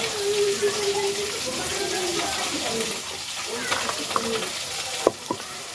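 Fish frying in hot oil, a continuous close sizzle with spattering pops and a few sharp crackles near the end.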